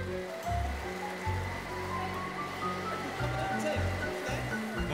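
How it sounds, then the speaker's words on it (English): Cartoon water splashing in a big pool, a steady rushing wash of water with bursts of splash, running under a sustained tonal background throughout. "I like the splashing."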